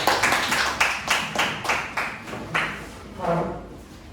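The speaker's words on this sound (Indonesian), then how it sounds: "Tepuk tangan untuk kelompok A." A small audience claps for a presenting group at a teacher-training session in Aceh, a few seconds of steady, fairly loud rhythmic hand claps that loosen and trail off near the end.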